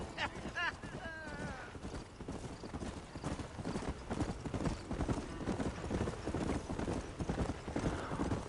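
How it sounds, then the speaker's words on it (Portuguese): Horse hooves clip-clopping in a steady galloping rhythm while riding in Red Dead Redemption, close and prominent throughout, with a brief whinny early on and voices talking over the game sound. "Dá uma cavalgada no cavalo, macho."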